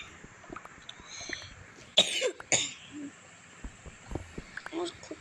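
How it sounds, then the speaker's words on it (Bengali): A person coughs in a short burst of two or three harsh, close coughs near the middle, amid quiet room noise during Minecraft gameplay. "আমার খুব কাশি হচ্ছে।"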